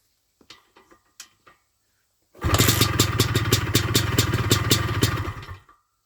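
A miserable little small engine sputters to life on choke after a few weak pull attempts, then runs loud and close with a fast, uneven clattering beat before cutting out near the end.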